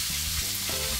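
Sauce bubbling around golden halibut fillets in a pan, a brief close burst of steady sizzling and soft bubbling with no talking.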